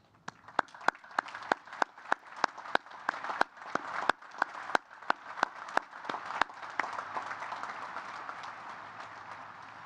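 Graduation audience at the US Naval Academy applauding, with sparse, sharp individual claps opening the clip before a steadier wash of distant applause that slowly thins out.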